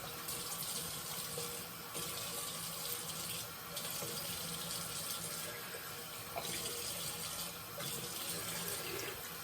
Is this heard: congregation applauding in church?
no